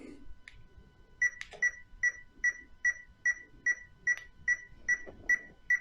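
A steady series of short electronic beeps, about a dozen evenly spaced chirps from a Hobbywing 1080 ESC powering on in an Absima CR3.4 Sherpa RC crawler, with faint handling clicks underneath.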